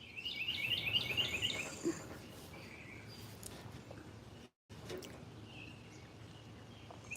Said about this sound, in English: Look at the birds attacking me.